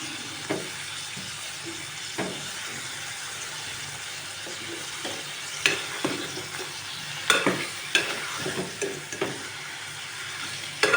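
Brinjal pieces fry in oil for dalcha, a low, steady sizzle close by, broken by irregular clinks and scraping knocks of stirring.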